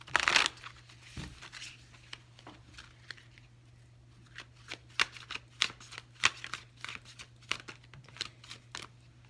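Tarot cards are shuffled over and over up close, crisp riffling and flicking bursts with short pauses between, no voices.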